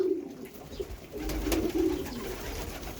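Pigeons at a pigeon loft coo in low, rolling bursts close by, two or three phrases over a few seconds with faint rustling behind.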